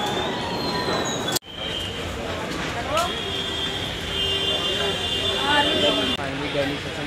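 Trains at New Delhi railway station, with wheel squeal and rolling carriage noise over a busy platform hubbub and a sharp clunk; people talk throughout.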